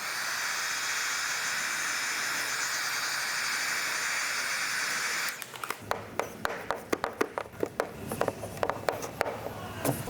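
A heat gun blows a steady loud hiss onto tint film on a 2014-2024 Toyota 4Runner headlight for about five seconds, then cuts off, leaving a series of soft taps and rubbing sounds.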